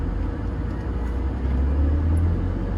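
A BMW E36 with a manual gearbox, driven by a learner, gives a low, steady engine rumble that swells in the second half as the revs climb. It is heard close up, with no voices.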